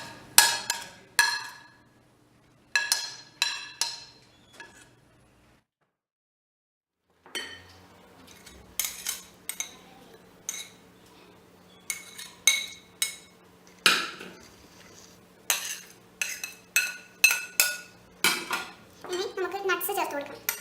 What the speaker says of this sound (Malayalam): ആ ബൗളിലോട്ട് നമ്മൾ അരിഞ്ഞു വെച്ചിട്ടുള്ള ഫ്രൂട്ട്സ് ചേർക്കുക.